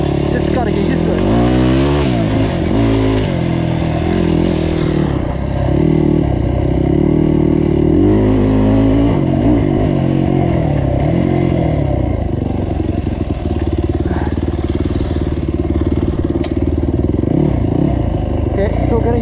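A GasGas EC250F enduro motorcycle ridden off-road, its four-stroke engine loud and close, revving up and down with gear changes and a constant rumble, with a rider talking over it.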